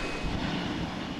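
A Boeing 787 Dreamliner's engines drone in a steady, broad roar with no talk over it.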